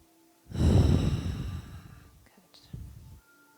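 A deep, slow yoga breath, a long breathy inhale swelling loudly and close then easing off, followed by a quieter soft exhale with faint mouth sounds, no talking.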